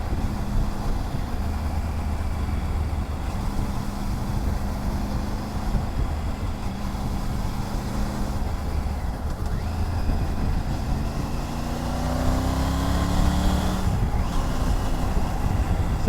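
Triumph Tiger 900 Rally Pro motorcycle riding on the road, a steady low engine drone with wind rush throughout and a rising pitch near the end as the bike accelerates through the gears.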